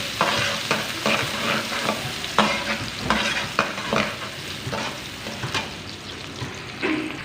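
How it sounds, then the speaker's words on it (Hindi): Chopped onions sautéing in hot oil in a pan while making keema and mixed vegetable macaroni, with a steady close sizzle and repeated scraping stirs of a spoon across the pan, no voices over it. "और प्याज को सौते कर लेंगे"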